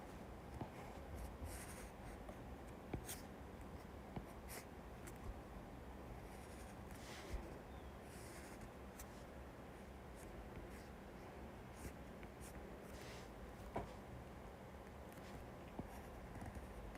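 A pen moves across paper while drawing scissors, giving a soft, steady scratch with small taps and strokes, faint and close, with no talk over it.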